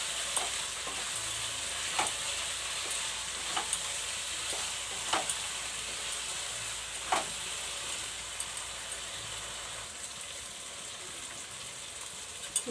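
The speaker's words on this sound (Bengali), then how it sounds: "এবার আমি যে মাংসটা নুন হলুদ তেল দিয়ে মেখে দিয়েছি এটা দিয়ে দিচ্ছি," Chicken pieces coated in salt, turmeric and oil fry in a pan, giving a steady sizzle with intermittent stirring scrapes throughout, close and alone without talk.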